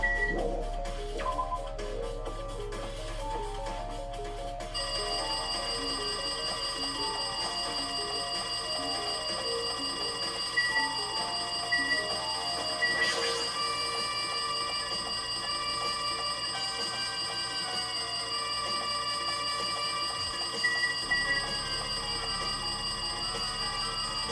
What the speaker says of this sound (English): Jeez, it's noisy. It looks like that phone is ringing.